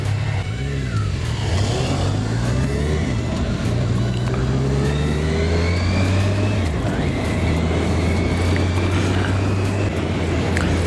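A car rolls slowly through a German village street, its mid-pitched engine humming steadily with gentle rises in revs, tyre and road noise close by and constant, no voices.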